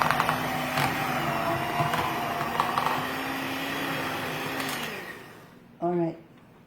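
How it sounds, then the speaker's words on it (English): Electric mixer running on high speed, blending butter with dry ingredients during a cooking demo; a steady, loud motor whir with a humming drone that runs for about five seconds and then cuts off, followed by a brief voice. "increase it to high speed. Just to make sure that you mix it really, really well, and you blend all the dry ingredients with your butter"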